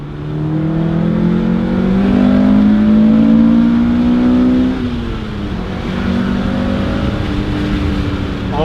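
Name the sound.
1999 Acura Integra GSR engine revving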